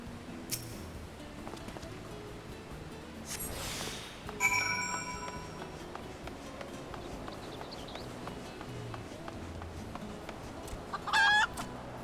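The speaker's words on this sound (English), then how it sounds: "A cantankerous chicken shrieks at you." A cantankerous chicken in Final Fantasy XIV's Island Sanctuary lets out a short, sharp shriek near the end, after an earlier brief cluck, over a low bed of game ambience.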